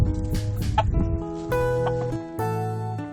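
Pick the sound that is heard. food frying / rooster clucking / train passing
rooster clucking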